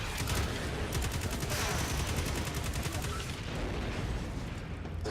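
Weapon fire in the video game Destiny 2 with a Sentinel Titan, a dense, continuous rattle of rapid shots and bursts layered with explosions, loud and unbroken throughout.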